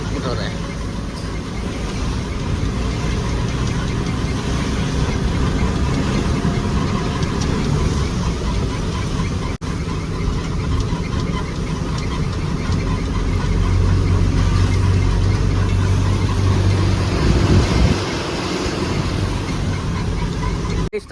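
Goods vehicle engine running at idle in rain near Mangalore, a loud steady rumble with a rougher surge later on, while people talk nearby.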